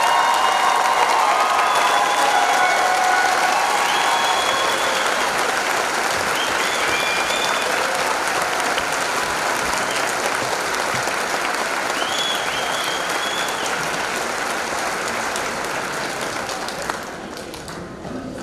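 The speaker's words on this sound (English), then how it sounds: "Let's give the class of 2019 a big round of applause." Sustained applause from a high school graduation audience honouring the class of 2019, dense and steady clapping with a few cheers, fading slightly toward the end.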